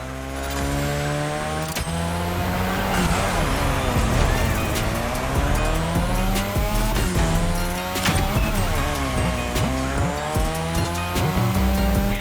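A car drifting on a drift track in The Crew Motorfest, with a steady loud engine roar and sustained tire squeal that rises and falls through long slides, continuous and close.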